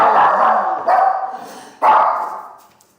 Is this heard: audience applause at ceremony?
no